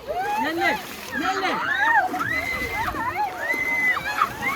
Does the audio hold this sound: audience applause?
no